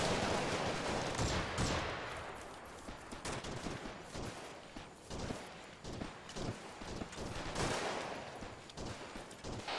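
Heavy gunfire erupts during combat involving British 5th Rifles soldiers, with loud, dense bursts of rapid shots overlapping almost continuously and only brief lulls between volleys.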